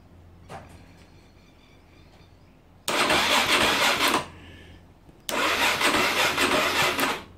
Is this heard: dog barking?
no